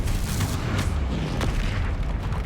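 A Confringo blast spell goes off in Hogwarts Legacy, a dense, rumbling explosive roar that holds loud and steady throughout with scattered sharper cracks layered over it.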